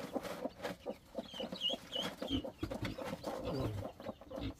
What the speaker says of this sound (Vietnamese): Đây là gà mới nở.